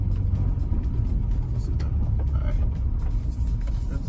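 Audi A4 B7 with an Integrated Engineering stage 1 tune pulling at full throttle on the road, a steady droning engine rumble heard from inside the car.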